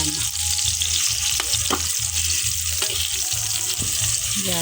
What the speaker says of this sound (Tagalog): Sinabay ko lang ilunod yung sibuyas at bawang.